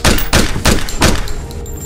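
Rapid gunfire in a Danish short film about a SWAT hostage situation: four loud, sharp bursts about a third of a second apart, then quieter clatter fading out, with no talk.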